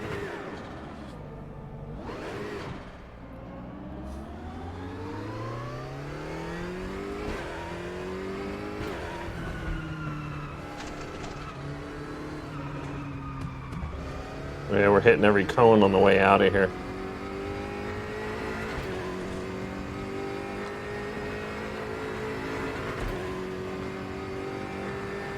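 Race car engine in the RaceRoom racing game revs and climbs through the gears, rising and falling whine with a brief loud burst midway, while someone talks throughout.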